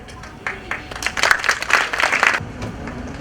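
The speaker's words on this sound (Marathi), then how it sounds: "जोरदार टाळ्या" An audience at an acting academy event breaks into a short burst of applause, rising for about two seconds of dense clapping before fading, with faint murmuring voices around it.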